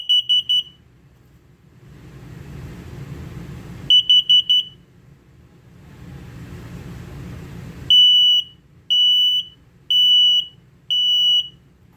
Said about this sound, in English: So as you hear, there was 2 different beeps. One is for LP, one is for carbon monoxide.